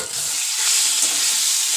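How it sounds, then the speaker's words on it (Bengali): Chicken curry with potatoes sizzles and fries in a pan while being stirred, a steady close hiss with scraping of the spoon, no voices. "কারণ মাঝে মাঝে না নাড়লে তলায় বসে যাবে, জিনিসটা খেতে খারাপ লাগবে এবং পুড়ে যাবে।"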